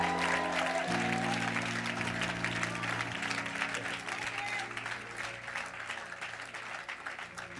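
Applause and cheering from a church congregation during a healing service, broadband crowd noise filling the whole stretch, with sustained organ or keyboard chords underneath and voices mixed in.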